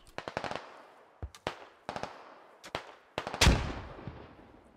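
Gunfire in the video game SquadOps: sharp shots in short bursts and single cracks, some near and some farther off, with a loud close blast near the end and ringing tails between the shots.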